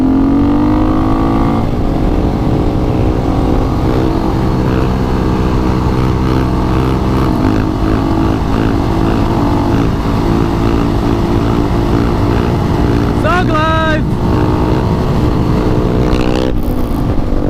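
A supermoto motorcycle engine roars loudly and steadily during a wheelie, revving high throughout, with a brief shouted voice near the end.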